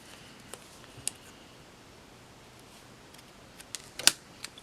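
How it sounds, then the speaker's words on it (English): Scissors snip through a few paper flower stems during Stampin' Up! autumn card making, giving sparse, faint clicks and cuts over a quiet room with a louder pair of snips near the end. "So we're going to cut the stem off of 3 of these."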